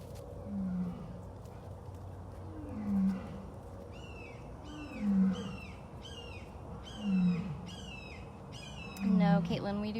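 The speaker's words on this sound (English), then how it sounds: "That's Nikita roaring" Big cats roar at a rescue sanctuary, four low, heavy roars repeating every two seconds or so at moderate distance, while a bird chirps in repeated bursts overhead against steady outdoor background noise.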